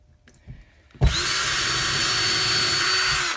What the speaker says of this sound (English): Pre-drill your hole.